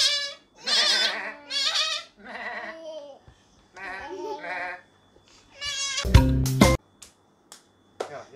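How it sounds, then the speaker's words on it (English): Sheep bleat several times in wavering, drawn-out cries, close by, followed by a sharp loud rattle or clatter and quiet pauses. "Sheep."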